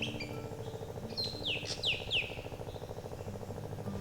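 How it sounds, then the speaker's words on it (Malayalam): A racket-tailed drongo in a Kerala forest gives several sharp, whistled chirps and swooping calls over about two seconds, moderately near, over a steady background hum of other birds or insects. "തുടക്കത്തിൽ തന്നെ റാക്കറ്റ് ടെയിൽ ഡ്രോങ്കോ എന്ന കാടുമുഴക്കിയാണ്."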